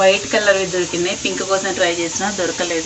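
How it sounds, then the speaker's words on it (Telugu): A steady steam hiss from a pressure cooker runs in the background while someone talks over it up close. "ఆ కుక్కర్ సౌండ్ వస్తుంది"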